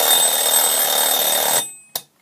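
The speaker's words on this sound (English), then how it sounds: "This is what the alarm sounds like." A 1950s Equity mechanical alarm clock rings with a loud, continuous metallic bell that cuts off abruptly, followed by one brief final ring.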